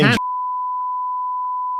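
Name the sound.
censor beep bleeping out a word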